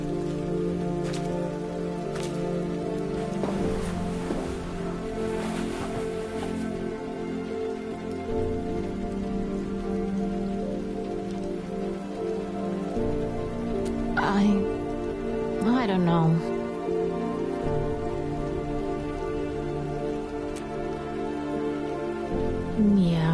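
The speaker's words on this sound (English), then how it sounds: "Come on, let's wait out the rain in the booth." Steady rain patters on a surface throughout, with a faint low hum beneath and a few brief voice-like calls near the end.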